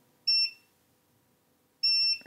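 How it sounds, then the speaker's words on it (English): A multimeter in continuity mode gives two short, clear electronic beeps about 1.5 seconds apart while capacitors are tested on a PlayStation 5 circuit board. The room is otherwise quiet, with a faint click at the end. "see if our caps are still beeping"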